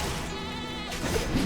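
Sheep bleating in World of Warcraft: The War Within, a single drawn-out, wavering in-game bleat heard close and clear with light game ambience behind it.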